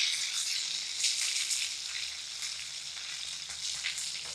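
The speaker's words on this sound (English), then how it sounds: "I make sure that all the fat are seared" Ribeye steak fat sears in a pan with a steady, bright, crackling sizzle that stays even throughout, close and uninterrupted, with no speech.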